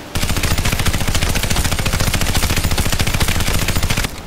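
Rapid automatic gunfire in a CryENGINE 3 game, aimed at a tree, a loud, steady stream of evenly spaced shots that runs for about four seconds and then stops abruptly.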